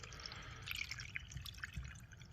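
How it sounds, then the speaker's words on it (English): Diesel fuel poured into a semi truck's spin-on fuel filter to pre-fill it, a soft close trickle and dripping of liquid with small splashes, quiet and steady, no voices. "Now we pre-fill the other fuel filter."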